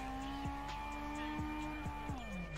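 Tires squeal in long, steady whines as a Nissan S15 drifts, with engine tones dropping and rising through repeated shifts, fairly faint.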